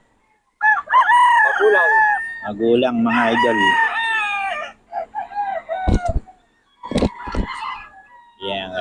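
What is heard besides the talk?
roosters crowing and clucking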